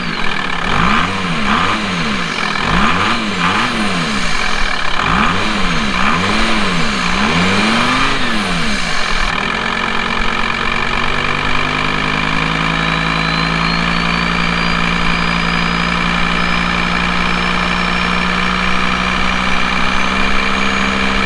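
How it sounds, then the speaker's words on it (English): VW T4 van with a 2.5 TDI diesel engine and cone air filter, revved repeatedly in rising and falling bursts, then settling into a steady, droning idle, loud and close with no talking. "that's what the cone air filter sounds like on the T4"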